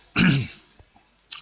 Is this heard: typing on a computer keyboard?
no